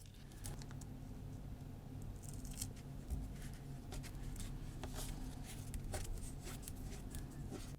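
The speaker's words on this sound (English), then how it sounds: "I like to cut my template quite roughly at first" Scissors snip roughly through paper while cutting out a leather bag template, giving steady, close crisp cuts with faint rustling of the sheet throughout.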